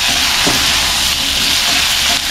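Onions and tomato for sambar sautéing in a pan, a loud, steady frying hiss that runs unbroken throughout, with a faint scrape or two and no talk.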